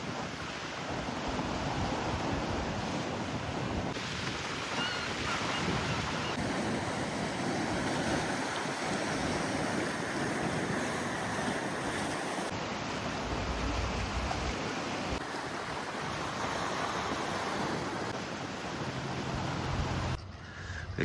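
Waves roll onto South Beach in Bridlington, near Flamborough Head on the Yorkshire coast, with continuous surf and gusting wind buffeting the microphone throughout and no one talking.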